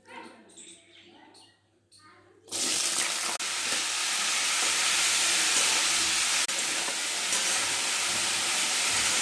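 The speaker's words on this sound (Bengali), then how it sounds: "এখানে কড়াইয়ে জিরে শুকনো লঙ্কা দিয়ে দিয়েছি।" Cumin seeds and dried red chillies hit hot oil in a wok, bursting into a loud, steady sizzle that holds without letup after a quieter start where a voice speaks.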